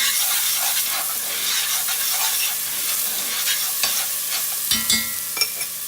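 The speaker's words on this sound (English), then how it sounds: "And we're going to start it off with some chopped onion and some chopped garlic. You can hear that it's just sauteing in there." Chopped onion and garlic sauteing in a hot pan, a steady close sizzle with occasional stirring scrapes near the end, no talking.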